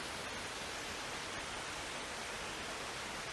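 A mountain waterfall gives off a steady, unbroken rushing roar of falling water, heard close and alone with no voices for the whole stretch.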